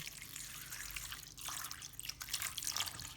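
Water poured into a basin holding ginger and baking soda makes a steady, close splashing and trickling sound that runs on continuously for a few seconds, with no voices.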